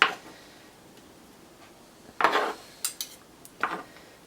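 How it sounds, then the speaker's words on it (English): Chopped jalapenos dropped into a bowl of raw ground turkey for burgers, a few close clinks and soft taps against the bowl in separate bursts over a quiet background. "Let's put in the jalapenos next"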